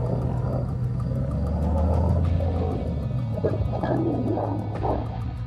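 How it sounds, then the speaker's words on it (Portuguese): Lions fighting on open ground roar and snarl in a low, rumbling din that carries on without a break, heavy and growling at a middle distance. "A gente viu uma nuvem de terra e ouviu rugidos e rosnados."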